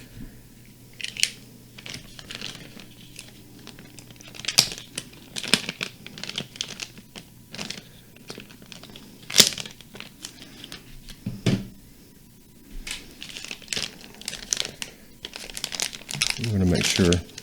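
Crinkly plastic packaging for a drive shaft for a Traxxas X-Maxx 8S is cut open and handled up close with repeated crumpling, rustling and a few snips, while a person talks intermittently.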